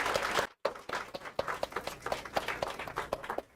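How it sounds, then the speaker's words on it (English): An audience applauds a poetry panel at a live event, scattered, fairly faint clapping from a modest crowd with a brief dropout near the start. "Let's just give another round of applause for our panel."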